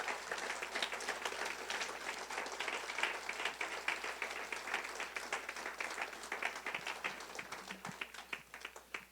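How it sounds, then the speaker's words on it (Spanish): Congregation in a church applauding, a dense, sustained patter of many hands clapping, moderately distant, holding steady before thinning toward the end. "Dale un aplauso al Rey."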